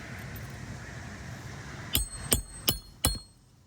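Four sharp, evenly spaced hammer blows strike an asphalt composition shingle roof, close and distinct, after a stretch of quiet background.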